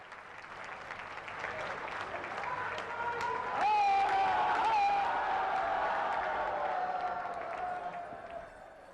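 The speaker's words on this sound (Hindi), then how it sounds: "आप सब अपनी भावनाओं के पुष्प जोरदार तालियों के माध्यम" An audience at an outdoor public event in Varanasi, where development projects are being launched, applauds and cheers in a sustained, dense wash of clapping that swells slightly in the middle, with faint voices and tonal sounds mixed in.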